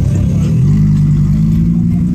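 A car drives past a house in Geneva, its low engine rumble swelling and holding close for a couple of seconds with a faint clatter underneath.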